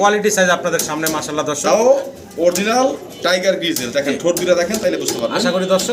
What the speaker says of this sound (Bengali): চমৎকার আরও এক জোড়া শৌখিন কবুতর আমরা দেখতে পারতাছি